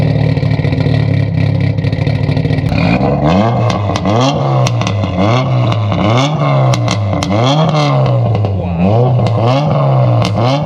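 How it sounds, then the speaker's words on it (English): A cammed JDM car engine idles loud and close after a cold start, first a steady high idle, then a lumpy, loping rhythm that rises and falls repeatedly, with no talking. "You cannot beat a cammed idle."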